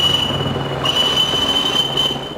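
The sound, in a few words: Flying Scotsman steam train passing through Grantham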